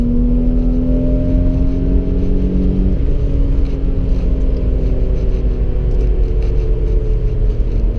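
1991 BMW 525i E34 engine at full throttle in third gear, heard from inside the car as a loud, steady low rumble with a droning tone that shifts slightly partway through, with no talking.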